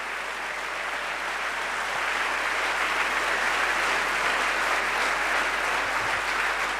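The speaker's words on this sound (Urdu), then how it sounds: "زوردار تالیاں بجائیے اس مسیح کے لیے" A church congregation applauds loudly, a dense and sustained wash of clapping that builds slightly and holds steady throughout.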